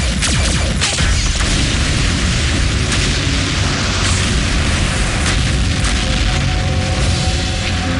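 Explosion effect from an animated Transformers Prime series, a loud sustained booming roar with crackling debris and rumbling fire filling the whole stretch.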